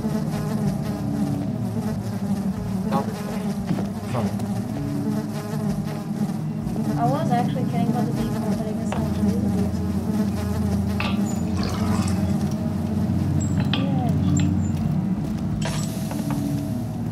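Bees buzzing in the horror video game Amnesia: a dense, steady insect drone that fills the whole stretch, with faint mechanical clicks and shifting tones beneath it.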